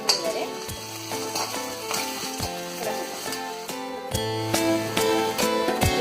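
Ginger and garlic fry in a pan for a Kerala-style beef fry, a loud continuous sizzle with sharp metallic clanks and scrapes of a utensil against the pan at intervals, growing louder near the end.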